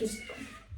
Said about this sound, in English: If you can hear my cat meowing at the door,